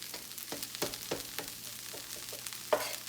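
Knife chopping steak on a flat griddle for Philly cheesesteak: a handful of sharp metallic smacks at an uneven pace, close and fairly crisp, over a steady background sizzle.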